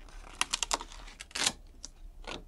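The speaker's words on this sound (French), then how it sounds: "La machine a fini de nous découper le bord de la carte." A cutting machine trimming the edge of a paper card: a quick run of light, dry clicks and taps, then a louder rasping burst and a few more scattered ticks.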